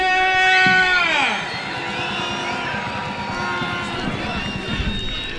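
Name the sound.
football fans cheering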